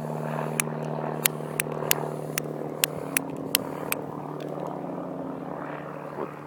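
Propeller airplanes drone steadily overhead, a constant mid-loud hum with no voices, punctuated by a series of sharp, regular nearby clicks.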